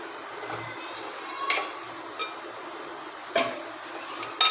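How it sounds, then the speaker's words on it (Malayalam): A spoon stirs sweetened beaten rice and grated coconut in a pan, making faint, soft scraping with a few sharper clinks against the metal, spaced irregularly over a quiet background. "തേങ്ങായും എല്ലാം കൂടെ അങ്ങോട്ട് നല്ലോണം യോജിപ്പിക്കാം"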